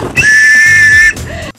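A plastic whistle attached to a life jacket gives one loud, steady, shrill blast lasting about a second, cut off sharply, heard on the water during a boat outing.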